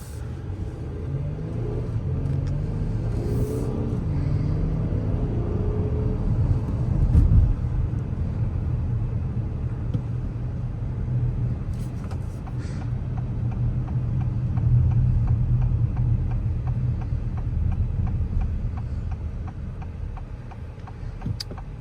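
Steady cabin road noise and low engine rumble inside a 2024 Acura MDX A-Spec SUV while driving, continuous and moderately loud with slight swells, no talking.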